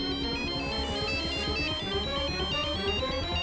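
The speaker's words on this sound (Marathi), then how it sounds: "कोणाचा फोन आहे?" A mobile phone ringtone plays loudly and continuously indoors, a bright repeating electronic melody with no talking over it.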